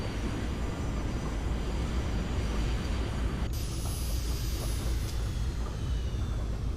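A Northrop T-38 Talon jet in the X-Plane flight simulator gives a steady, moderately loud engine roar and hiss; partway through, the broadband noise drops and a high whine stays on.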